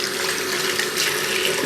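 Warm water runs steadily from a tap into a sink, a continuous broadband hiss and splash with no pauses, close and fairly loud.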